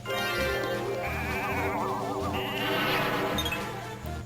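Sheep bleat from the Sheep Count ability in Final Fantasy Tactics Advance, a continuous synthesized game sound with wavering bleats over a looping bassline and music, loud and unbroken.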